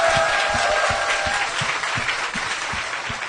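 Audience applause from a small gathering, a brief burst of clapping with a few sharp claps standing out over the crowd, tapering gradually within a few seconds.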